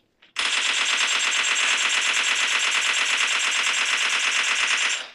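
Sustained automatic gunfire in the video game PUBG, a dense unbroken burst of rapid shots lasting about five seconds, loud and close, with no talk over it.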